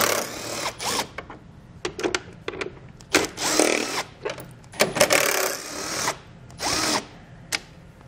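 A power tool removes seven 10 mm screws from the radiator cover of a 2019 Ford Explorer. It gives repeated short whirring bursts, close and loud, with brief pauses between runs.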